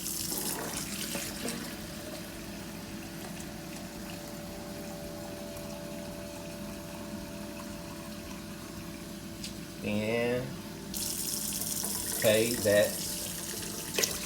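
Water pours steadily from a tap into an Instant Pot holding rice, a soft continuous splashing under low room noise, with a person speaking briefly near the end.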